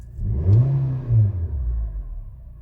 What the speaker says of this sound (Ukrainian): хочу показати, що машина працює